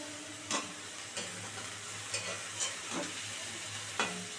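Note greens with turmeric sizzle gently in a frying pan under a steady hiss, with a few distinct scraping stir strokes spaced about a second apart.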